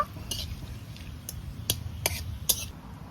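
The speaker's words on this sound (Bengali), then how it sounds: "ফোড়নটা একটু নাড়িয়ে নেব" Bay leaves, cardamom, cloves and cinnamon are stirred in hot ghee for a prawn dopiaza, giving a few faint, sharp spoon clinks and scrapes against the pan over a soft sizzle.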